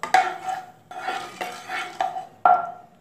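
Black mustard seeds are dropped into hot oil and stirred in a metal pan, giving a series of sharp clinks and scraping stirs with a faint crackle, close and distinct; no talking.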